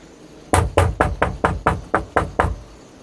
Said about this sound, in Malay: ketuk pintu rumah dalam keadaan ketakutan.